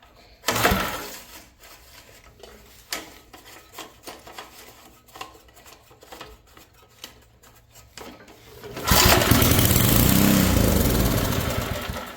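An old tiller's small engine coughs and sputters with a few pulls and brief bursts, then catches at the end and runs with a loud, steady roar for several seconds.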